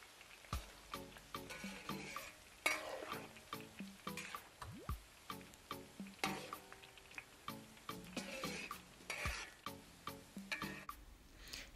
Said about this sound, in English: you must fry the onions until they are golden brown and remove them promptly